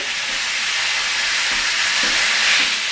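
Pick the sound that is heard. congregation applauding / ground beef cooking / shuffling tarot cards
ground beef cooking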